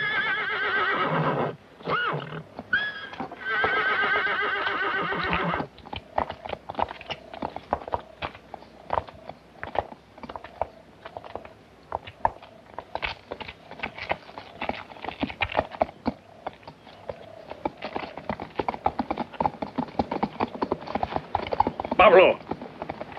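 A horse whinnies amid steady clip-clopping hooves in a western film, with voices talking over much of it and a louder neigh near the end.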